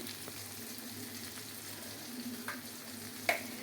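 Vegetables with tomato and turmeric frying in a pan, a soft steady sizzle heard fairly quietly, with a few faint scrapes and a small clink near the end.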